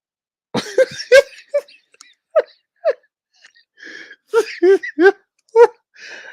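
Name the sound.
cough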